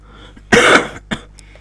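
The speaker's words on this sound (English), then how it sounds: "I got a little bit of a cough" A single person coughs hard in a loud, close burst, then gives a shorter throat-clearing rasp a moment later, with no talking.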